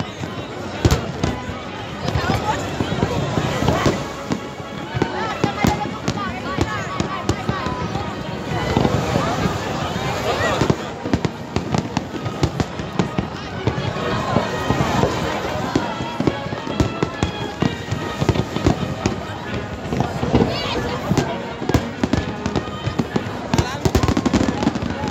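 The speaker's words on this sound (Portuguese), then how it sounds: "desse maravilhoso espetáculo que é a queima de fogos na praia de Caraí" New Year's Eve fireworks display at Icaraí beach, with continuous crackling and popping bursts throughout, crowd noise and wind in the background, and people talking.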